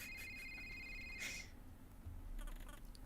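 A cell phone rings inside the video game A Short Hike, a brief bright electronic ring tone playing over a soft ambient game soundscape, then cutting off.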